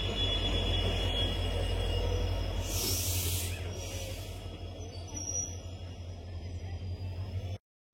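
A passenger train pulls into a station near Hassan with a loud, steady rumble of wheels and cars, a brief high squeal partway through, then the noise eases before stopping abruptly.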